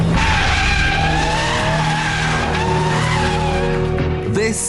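A new £50,000 BMW M3 being driven hard, its engine note holding steady under a loud, continuous tyre squeal that wavers in pitch and rings out close by.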